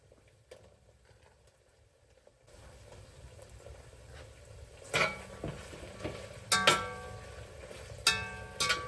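Carrots being stirred in a cauldron while making bograch, giving soft scraping and clinking strokes over a steady sizzle, with several sharper knocks in the second half.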